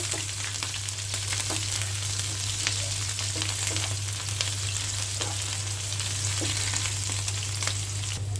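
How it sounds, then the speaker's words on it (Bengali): Chopped onion and green chili frying in hot oil, alongside dried red chilies, for a Bengali chal kumra bhaji, a loud steady sizzle with scattered crackles and faint stirring throughout. "এখানে কেটে রাখা পেঁয়াজ আর কাঁচামরিচ কুচি দিয়ে দিলাম। এটা কিছুক্ষণ তেলের সাথে ভাজবো।"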